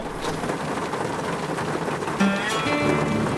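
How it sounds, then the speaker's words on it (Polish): Steady rain falls outdoors in Denmark as a dense, even hiss that persists throughout, with a faint tonal whine partway through. "Padało i padało."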